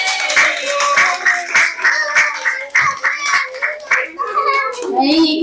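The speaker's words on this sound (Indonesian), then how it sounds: "tepuk tangan untuk blok C" Children at a Ramadan gathering clap in rhythmic, evenly spaced bursts, close and loud, mixed with children's voices calling out through the applause.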